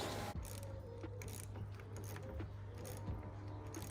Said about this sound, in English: So we've got the socket and the 10mm. Now we just want to take it off.